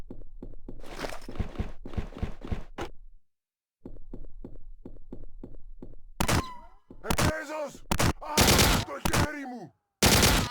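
In the war game H&D Deluxe, a shotgun fires buckshot in a run of loud, close booming blasts late in the stretch. Quieter rhythmic thumps come before them, with a few pauses in between.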